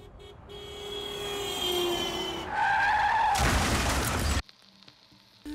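Car tires screech in a long rising skid before a loud crash in an anime film, the impact bursting into a roar and then cutting off abruptly to near silence.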